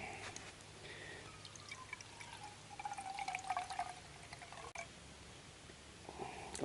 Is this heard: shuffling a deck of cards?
no